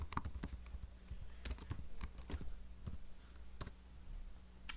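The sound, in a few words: typing on a computer keyboard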